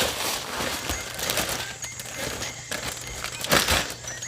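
Little smokies wrapped in bacon get shaken with black pepper, producing a continuous rustling, crinkling rattle with irregular rhythmic jolts, close and moderately loud with no talking.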